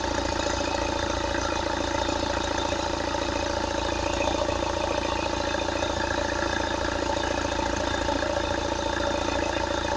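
An Opel Astra H 1.7 CDTI diesel engine runs with its turbocharger working, giving a steady, close idle with a dense mechanical drone and light clatter that holds evenly throughout, with no voices.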